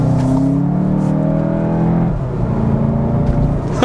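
2017 Volkswagen Golf GTI driving through a turn on a winding road, engine note droning loud and close, pitch settling lower as the car leans into the corner.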